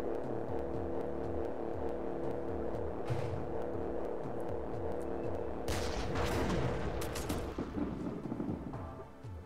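Artillery and gunfire rumble through the REDCON strategy game as a dense, steady barrage of booms and rapid shots, swelling into louder blasts near the end, with no talk.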